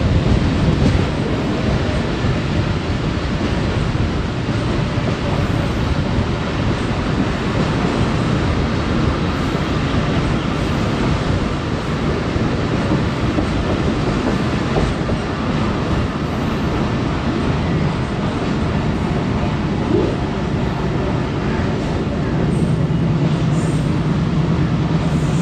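Karachi Express passenger train pulling out toward Raiwind behind a Blue Tiger AGE30 diesel locomotive, a steady heavy rumble of engine and rolling wagons that stays loud and even throughout, no talk.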